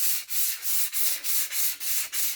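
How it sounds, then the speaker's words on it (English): Orbital sander giving wood a final smooth finish before pyrography, moving with the grain in steady, even up-and-down passes, with a close, continuous rasping hiss that swells and dips about every third of a second. "to get that really smooth wood. So sand with the grain."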